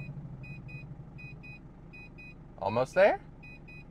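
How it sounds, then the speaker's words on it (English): The pop-up roof of a Mazda Bongo Friendee sounds repeated short paired warning beeps at steady intervals while the roof rises, over a low idling engine, with a person speaking briefly in the middle. "this thing annoyingly beeps at you nonstop until it goes up all the way"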